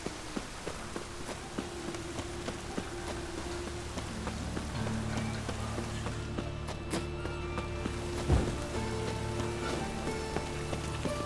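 Steady rain falls in The Witcher, a continuous hiss of drops on surfaces with soft footsteps moving through it and a brief thud near the end.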